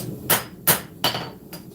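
Light hammer taps on hot steel while forging a knife with a fuller, four separate metallic strikes spaced about a third of a second apart, close and crisp, with no talking.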